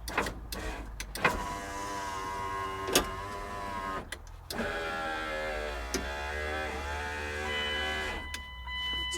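Replacement power window motor in a 2001 Dodge 2500 truck raising and lowering the glass, a steady whining hum with sharp clicks and thumps as the window starts and stops, close up with the truck idling.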